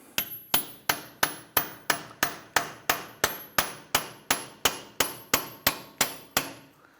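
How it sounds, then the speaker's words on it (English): A hammer drives a chisel to free a stuck CV axle from the wheel hub of a 2008-2013 Nissan Rogue, giving about nineteen evenly spaced, sharp metallic strikes, each ringing briefly, close and unaccompanied. "We're going to use a chisel in the middle here."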